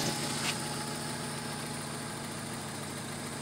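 A Honda Civic LXi engine idles steadily with a running-hot temperature problem, a constant close hum and faint vibration with one brief tick near the start and no voices.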